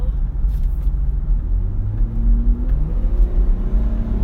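A car engine accelerating on the road while the driver gets around another vehicle, heard from inside as a low steady rumble with a rising whir, close and fairly loud, with no talk.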